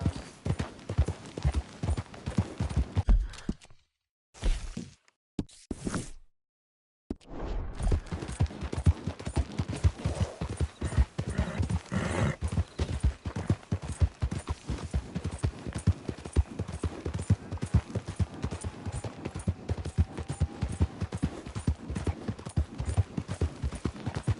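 Horse hooves clip-clop steadily in Red Dead Redemption 2, a continuous close rhythmic clatter of hoofbeats briefly interrupted by a couple of short silences before resuming alone.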